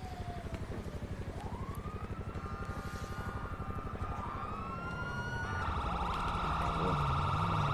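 Steady thudding of a helicopter's rotor in GTA V fills the scene, loud and continuous, while police sirens wail and sweep over it, growing stronger toward the end.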